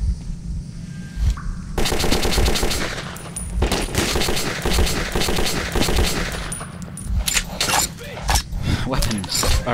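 Rapid bursts of automatic gunfire and single shots from weapons in the video game Metro 2033, loud and dense for most of the stretch, with a voice talking in between.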